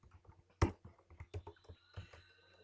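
Close, quiet keystrokes on a computer keyboard while JavaScript code is typed, an irregular run of soft clicks and taps with one louder stroke, alone without speech.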